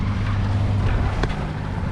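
Steady wind rushing over the microphone aboard a sailboat at sea with the mainsail up, a constant low roar and hiss throughout, one faint brief knock in the middle, no speech.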